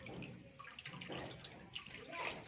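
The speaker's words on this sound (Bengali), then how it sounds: "এখানে মাছ ধুয়ে দিচ্ছে" Running water splashes steadily as fish is rinsed under it, with a busy, continuous wash of water close by and faint voices in the background.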